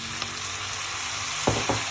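Chicken sizzling in a pan as it is stirred for a rice dish: a steady close frying hiss with two quick scraping stir strokes near the end, no voices.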